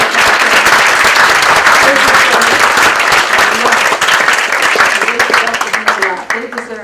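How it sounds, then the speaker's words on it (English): An audience at a lecture series bursts into loud, sustained applause, with dense clapping that thins out toward the end. "They deserve a lot of applause."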